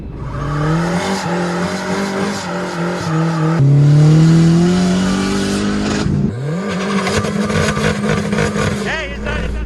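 A procharged 2017 Mustang, D-1SC Gen 2, revs hard on a dyno, its engine note climbing in long pulls, dropping and rising again, loud and close, with people talking over the roar.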